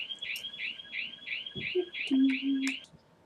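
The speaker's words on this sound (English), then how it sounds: "My neighbor went into her, new to her car, and the car alarm went off" A neighbour's car alarm goes off nearby, sounding as a steady run of about eight rising, chirping electronic tones at an even rhythm, with a few faint knocks underneath and no talking.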